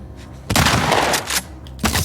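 Shotgun blasts in The Last of Us Part II, a loud close burst followed by a short sustained roar and a later second blast, heavy and booming with no talk over it.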